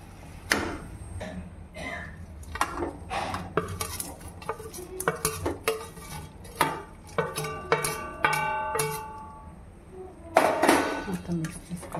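A spoon scraping and clanking in a pan as fried cauliflower gobi is tossed into Manchurian sauce, irregular close metallic strikes and scrapes, with a person talking in between.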